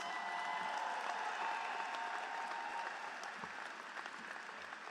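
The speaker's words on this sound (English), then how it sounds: "Please give Rob and Karen one more round of applause." A commencement ceremony audience at Roxbury Community College applauds in a steady, dense wash of many hands that holds evenly and fades slightly near the end.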